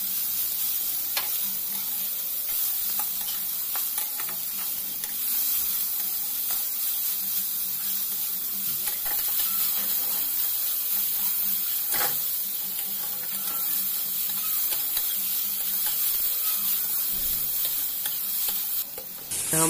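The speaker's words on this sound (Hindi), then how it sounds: "इसमें हम डालेंगे कटी हुई गोभी और उसे भी अच्छे से साथ में फ्राई करेंगे।" Chopped cabbage frying for veg spring rolls, a steady close sizzle and hiss with scraping stir strokes throughout, no talking.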